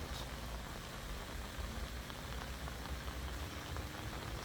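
Steady rain falling around a pond on a walking trail, a soft, continuous hiss of drops on the ground and water, faint and even throughout with no voices.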